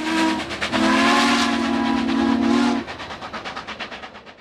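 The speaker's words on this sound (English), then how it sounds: "Steam not only turns the wheels, it blows the whistle." Steam locomotive 4449 at the Oregon Rail Heritage Center sounds its steam whistle: a short chord, then a longer loud sustained blast, followed by rhythmic chuffing puffs of steam.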